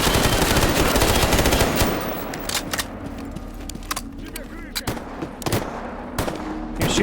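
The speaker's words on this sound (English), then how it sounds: "You're shooting, you hear like the metallic like pinging." Gunfire in the video game Stalker Gamma: a loud, dense automatic burst at first, then sparser sharp single shots and short volleys with metallic pings, with a voice faintly underneath.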